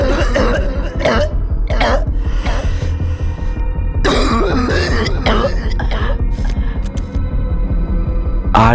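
A man coughs repeatedly in harsh, rasping bursts over a low droning background, a sound effect in a Bengali village ghost story.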